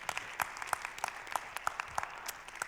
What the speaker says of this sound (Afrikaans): Kan ons haar 'n lekker hande klap gee?